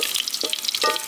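Mustard seeds, fenugreek and garlic frying in hot oil for a drumstick fish curry: a brief, bright sizzle broken by two soft stirring knocks, with no voices.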